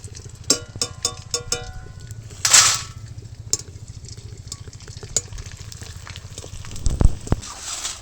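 Papad made from leftover rice fry in hot oil with soft bubbling and scattered crackles, plus a sharper hissing burst partway through, all close by.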